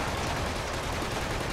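Dense, continuous gunfire from the video game Killzone 2, with overlapping automatic bursts forming a loud, unbroken wall of shots.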